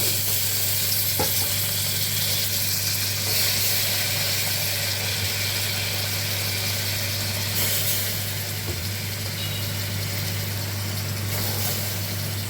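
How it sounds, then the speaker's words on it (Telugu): Cashews sizzle loudly and continuously in a pan of fried onions, a dense steady hiss with occasional spoon clicks and no voices. "తర్వాత ఈ జీడిపప్పు ఇందులో వేసేసాను."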